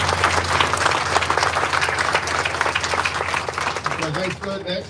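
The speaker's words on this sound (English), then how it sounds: "Let's give them a nice round of applause." Audience applause at a Vietnam fallen warriors monument ceremony honoring veterans and Vietnamese army guests: a steady, dense wash of clapping from a crowd, fairly close, fading near the end as a voice begins to speak.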